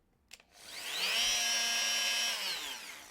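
A Bosch PMF 220 CE multifunction tool spins up after a click, holds a loud, steady high-pitched buzzing whine for about two seconds, then winds down.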